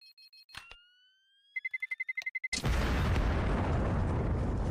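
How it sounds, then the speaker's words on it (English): A bomb detonates in a Counter-Strike match, preceded by a series of rapid rising electronic beeps, then a sudden loud close blast that keeps roaring as a dense rumbling wash to the end. "Both of the players getting just absolutely wrecked by that bomb"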